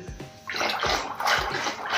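A cup of water poured into thick kadhi in a pot, splashing in a few short gushes that build to a steady pour, close and fairly loud.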